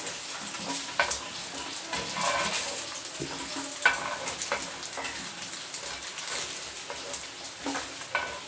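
Chhana bora (cottage-cheese fritters) frying in oil, a steady soft sizzle with occasional light clicks of a utensil against the pan, alone without talk.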